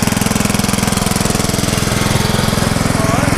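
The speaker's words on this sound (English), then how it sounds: "my granddad's kind of coming along on a little tractor" A small tractor engine chugs with a steady, rapid, rhythmic putter, loud and close, holding an even level throughout.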